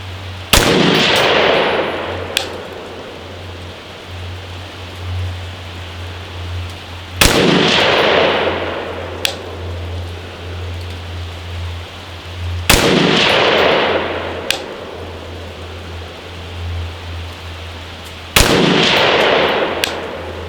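A 7.5-inch AR rifle fires four spaced, loud outdoor shots, each a sharp crack with a long rolling echo, and a steady low hum runs underneath throughout.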